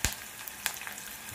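Curry leaves, crushed garlic and dried red chillies hitting hot tempering oil for tamarind-leaf dal, a sharp burst of sizzling followed by a steady hiss over the brief moment.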